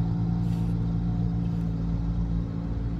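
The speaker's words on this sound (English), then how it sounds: "there's a car next to me that's loud" A loud car sits close by, its steady low rumble and engine drone running throughout with no talk over it.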